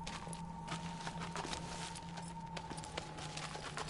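A horse's hooves clip-clop at a steady trot in Shadow of the Colossus, quick even strikes under a constant hum.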